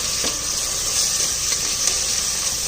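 Tomato, green chili and ginger-garlic paste sauté in a hot pan, giving a constant close sizzle with faint stirring scrapes mixed in.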